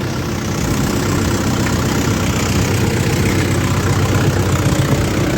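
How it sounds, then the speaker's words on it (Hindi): A tractor engine idles steadily at around 1200 rpm with a reversible MB plough attached, a continuous loud low rumble with a fine knocking pulse and no speech. "1200 आरपीएम पे हमारा ट्रैक्टर है।"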